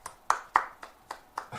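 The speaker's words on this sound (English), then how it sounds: "I applaud." One person clapping slowly, about six separate claps spaced evenly in a steady rhythm, close and moderately loud.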